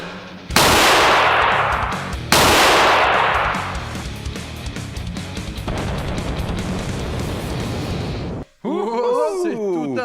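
Two sharp, loud firecracker blasts burst against a surface coated in impenetrable paint, each followed by a roaring, crackling decay, with rumbling commotion lingering afterward and a brief burst of chirping-like tones near the end.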